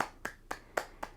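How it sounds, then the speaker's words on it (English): Four crisp, evenly spaced claps of both palms struck together during a yoga session, close and fairly quiet, in a steady rhythm with no talking. "Then both palms together,"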